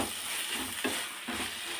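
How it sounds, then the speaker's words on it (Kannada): Bitter gourd fries in oil in a home kitchen with a steady close hiss and sizzle. A couple of brief scraping stirs sound over it, and no one speaks. "ಈ ಥರ ಚೆನ್ನಾಗಿ ಎಣ್ಣೆಲೇ ಅದನ್ನ ಚೆನ್ನಾಗಿ ಫ್ರೈ ಮಾಡಿಬಿಡ್ಬೇಕು"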